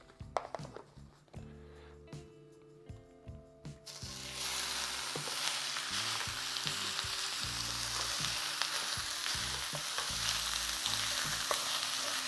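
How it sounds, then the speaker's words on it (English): Finely sliced ribeye steak hits an oiled pan, a few clattering drops and scrapes, then a loud, sustained sizzle that settles into a steady frying roar, no talk. "we have ourselves about 12 ounces of some finely sliced ribeye steak that we're gonna toss right in"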